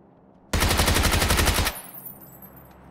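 A PP-19 Bizon submachine gun in PUBG fires one loud rapid automatic burst of about a second, tightly spaced shots that stop abruptly and leave a short fading tail.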